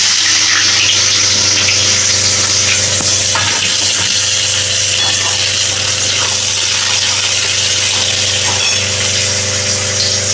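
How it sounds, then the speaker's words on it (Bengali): Chopped onions sizzle and crackle steadily in a hot pan while being browned, a continuous loud frying hiss with occasional stirring clicks. "পেঁয়াজটা আমি একটু লাল করে ভেজে নেব"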